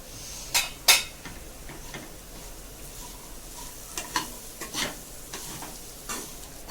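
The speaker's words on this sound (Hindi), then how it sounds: "चम्मच से भी चला के मिक्स करेंगे हम" Corn frying in a pan is stirred with a spoon, making a quiet, steady sizzle broken by a few sharp clicks and scrapes of the spoon against the pan, without any talking.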